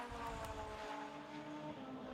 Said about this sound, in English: That sounded very quick and seamless as he backed it into the next gear.